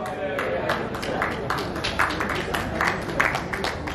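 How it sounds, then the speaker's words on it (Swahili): Crowd applause at a jubilee celebration for priests and bishops in Dar es Salaam, steady broadband clapping throughout with overlapping voices and music in the background. "makofi na mziki endelevu"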